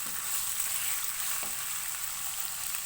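Finely chopped onions sizzle in oil over medium-high heat, a steady close hiss with no voices and one faint stir partway through.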